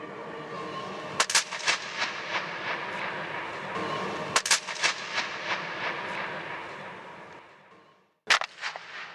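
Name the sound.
paper tearing echoing in Gol Gumbaz whispering gallery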